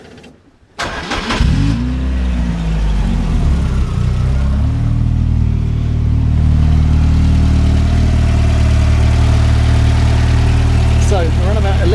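A car engine cranks and catches with a sharp start, then settles into a loud, steady idle close by, humming evenly for the rest of the clip with a brief voice near the end.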